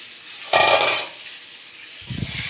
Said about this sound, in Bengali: একদম না ঢাকা দিয়ে না ভাজলে হবে না, প্রচণ্ড ফাটছে।